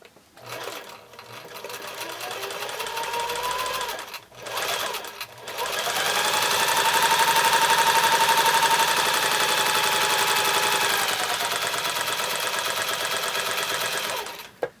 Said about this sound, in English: put them under the presser foot. and press down on our petal.